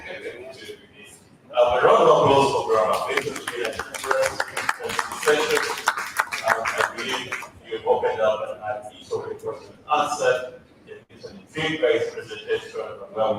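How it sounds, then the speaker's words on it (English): Audience applause at a business summit at Hotel Africana bursts in loudly and dense, then tapers into scattered clapping while a speaker talks over it. "A round of applause for Grandma."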